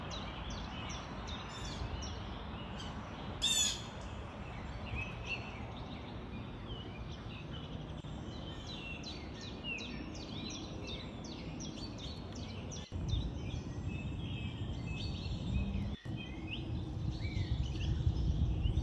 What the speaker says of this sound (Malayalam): ഇവിടെ നേരം വെളുത്തപ്പോൾ തന്നെ കുഞ്ഞുങ്ങളും അമ്മയൊക്കെ ആയിട്ട് നല്ല സൗണ്ടാണ്